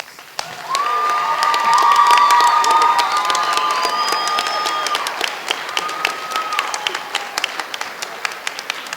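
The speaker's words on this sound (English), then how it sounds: "Give them all another round of applause." A graduation ceremony audience claps and cheers for several seconds, a loud, sustained wash of applause with whoops and shouts on top.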